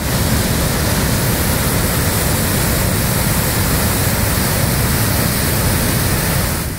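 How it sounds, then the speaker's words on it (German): Ristafallet waterfall in Sweden roars with a loud, dense, unbroken rush of falling water, steady and close throughout, with no voices. "Aber ein wirklich schöner Wasserfall"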